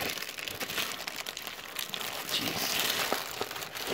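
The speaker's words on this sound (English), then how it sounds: "Just tear that bag." A plastic bag is crinkled and torn open up close during a toy unboxing, a continuous rustle with sharper crackles toward the end.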